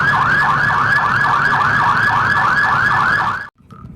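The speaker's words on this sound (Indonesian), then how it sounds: "Mobil truk pemadam kebakaran" A toy fire truck siren wails close and loud in a fast repeating rising-and-falling pattern for about three and a half seconds, then cuts off abruptly to near silence.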